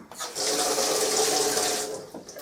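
Tap water runs steadily into a plunger coffee pot, a close, loud hissing splash that starts abruptly, holds for about two seconds and then trails off.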